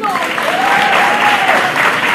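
A theatre audience at a Grainery Theatre staging of The Three Musketeers applauds loudly and steadily, a thick continuous clatter of clapping with a faint voice riding over it.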